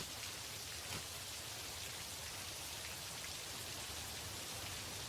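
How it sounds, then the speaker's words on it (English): Heavy rain falls steadily as a dense, even hiss of drops on surfaces, unbroken for several seconds with no voices. "The rain is pretty loud"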